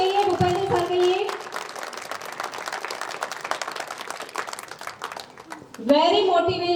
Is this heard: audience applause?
yes